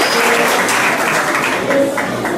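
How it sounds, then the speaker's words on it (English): An audience at a school event applauds a former teacher, a dense, steady wash of clapping at moderate distance that holds for the whole moment. "Give her a round of applause."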